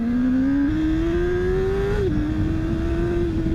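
A 2007 Honda CBR600RR sport motorcycle engine with stock exhaust revs steadily and loudly up close, its pitch climbing gradually, dropping briefly, then holding at a high idle.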